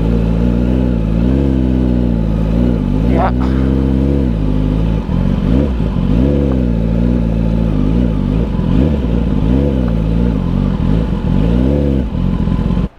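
A motorcycle engine revs and idles loudly and close for the whole stretch, its pitch repeatedly rising and falling with the throttle, and a brief clatter comes near the start.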